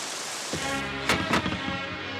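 Rain pours in a film scene as a steady, dense hiss, broken by a few sharp, loud bursts close by.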